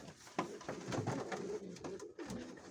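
Soft cooing of a Mykolaiv pigeon in short repeated phrases, close by, over a low background murmur.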